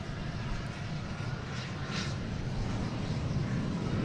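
A WestJet airliner takes off at Boston Logan International Airport, its jet engines producing a loud, steady, broadband roar that holds throughout.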